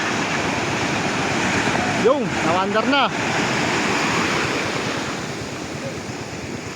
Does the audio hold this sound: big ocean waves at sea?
yes